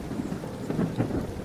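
Heavy rain pours down steadily during a thunderstorm, a dense, loud hiss with deep rolling thunder rumbling underneath and no voices.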